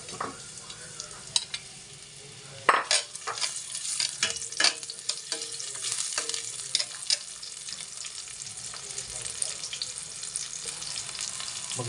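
Onion frying in cooking oil in a pan, a steady broadband sizzle with frequent scraping and clinking stirs and a sharp clatter near the start, running continuously at moderate loudness without talk.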